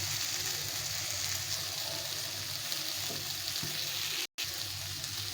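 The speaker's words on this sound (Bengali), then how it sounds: "ভালো করে ভেজে ভেজে কষিয়ে নিতে হবে।" Spice masala sizzles and fries steadily in a pan for a curry of morola fish with tender stems, with a continuous crackle, a few soft stirring scrapes and a brief dropout near the end.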